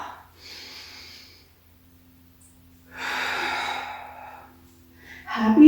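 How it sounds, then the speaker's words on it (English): A big, deep exhale during a Pilates mat breathing exercise, a breathy rush of air after softer breaths, with a louder breath close by at the end. "big exhale."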